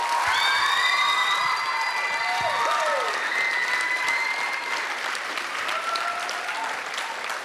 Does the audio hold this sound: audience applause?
yes